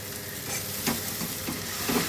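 Tomato paste with turmeric and ground coriander frying in a pan, giving a close, continuous sizzle with a couple of soft stirring scrapes, no talking.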